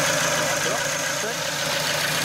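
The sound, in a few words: car engine running on hydrogen and petrol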